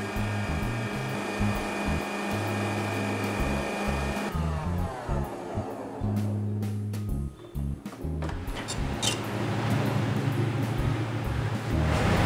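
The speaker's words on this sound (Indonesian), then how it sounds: "ini kita akan aduk aja sebentar ya adonan si tepungnya dengan menteganya" A motorized mixer hums and whirs steadily while blending flour and butter into batter for a marble sponge cake, its motor pitch shifting through speed changes, with a brief dip and clatter midway before resuming.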